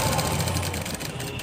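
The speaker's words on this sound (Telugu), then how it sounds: "మెయిన్ సైడ్ పెట్టి ఇలా కుట్టేస్తున్నాను." Sewing machine stitching frills onto a lehenga, a steady fast mechanical whir with rapid needle rhythm, loud and close, running continuously without talk.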